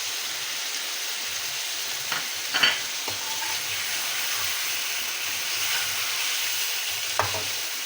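Chicken frying with simple spices in a pan gives a steady, close sizzle throughout, with a few brief clinks and scrapes of stirring.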